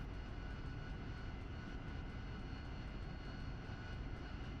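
Harrier jet engines spool up in the DCS flight simulator game, a steady, loud, droning roar with a constant whine that holds level throughout.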